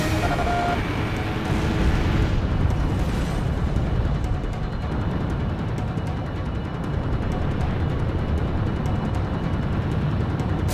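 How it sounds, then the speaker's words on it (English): Missile explosion in the Ace Combat 6 combat flight game, heard as a sustained roaring boom and rumble with crackling bursts that stays loud across the whole stretch. "It's a missile! A missile!"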